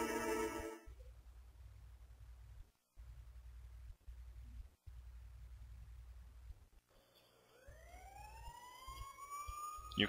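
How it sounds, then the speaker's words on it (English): Sirens wail in the distance in the video game Persona 4, rising and falling over a low rumbling hum that cuts in and out, with bird-like chirps near the end. "You can hear sirens in the distance."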